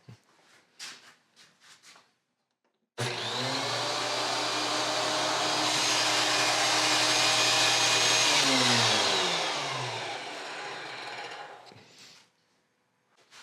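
A DeWalt DW735 thickness planer fitted with a helical cutter head starts up and runs loud and close as a board feeds through, holding a steady whine for about nine seconds before spinning down, after a few brief knocks.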